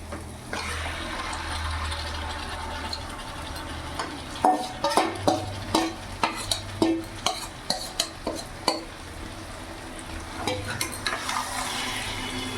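Marinated chicken frying in spice masala, starting as a steady loud sizzle, then turning into a run of regular spatula scrapes and clanks as it is stirred through, with no talking.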